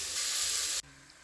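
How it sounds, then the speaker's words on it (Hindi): Spices are added to hot oil in a pressure cooker while making khichdi, giving a bright, close sizzle that holds steady, then cuts off abruptly and leaves a faint quiet. "थोड़ा लाल होने के बाद हम इसमें मसाले डाल दिए हैं।"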